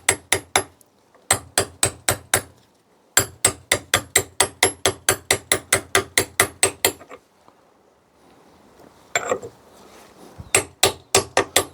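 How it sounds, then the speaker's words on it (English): Sharp, evenly spaced hammer taps on a size 30 socket, driving an oiled seal into an Opel Corsa Utility 1.4i. The taps come in rapid bursts separated by short pauses, with some quieter handling noise in one gap. "Once you hear the hammer sound becomes solid, that's where you're going to stop."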